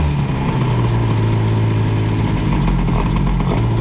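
A moped engine fitted with an Airsal XT 77 kit and 15 PHBG carburettor runs loud and close, a buzzing two-stroke note that dips as the throttle is eased back, with no voices.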